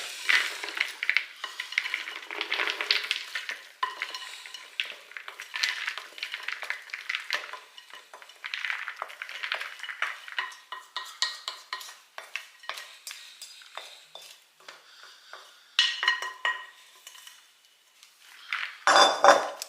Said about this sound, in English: pour it back into this plastic bowl